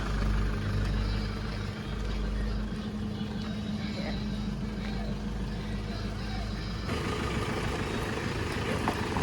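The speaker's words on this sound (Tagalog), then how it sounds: "Hyundai Porter 2 double cab." A Hyundai Porter 2 double cab truck engine runs steadily with a low, continuous rumble throughout, a slight shift in tone partway through, while people talk nearby.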